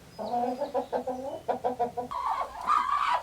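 Hens cluck inside a farmhouse coop during a morning egg check, a close series of rhythmic, throaty clucks followed by a louder, drawn-out squawk, with no talk.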